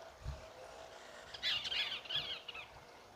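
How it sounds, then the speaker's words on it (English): Parakeets squawk outdoors in a noisy flock, a burst of harsh, chattering calls at moderate distance following a brief low thump. "These parakeets have been out here for like 30 minutes. Just, it's such a commotion."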